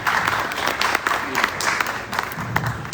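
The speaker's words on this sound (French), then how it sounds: "un applaudissement pour Aliam" Audience applause for young Aliam at a commemoration ceremony for Prince Saïd, a lively burst of clapping with distinct sharp claps standing out against the crowd, moderately loud throughout and slightly uneven in intensity.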